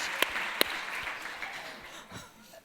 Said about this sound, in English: Let's give Kirby a big round of applause.